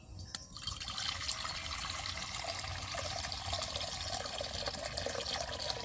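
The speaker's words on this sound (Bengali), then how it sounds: "কড়াতে জল দিয়ে দিচ্ছি।" Water pours steadily into a kadai cooking pan on a lit stove, a continuous close rushing splash that barely varies over several seconds, with no talking.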